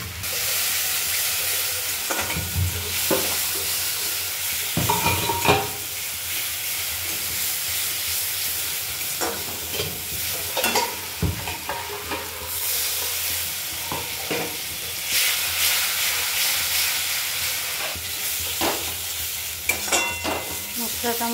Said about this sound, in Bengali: মশলাটা আমার ভাজা হয়ে গেছে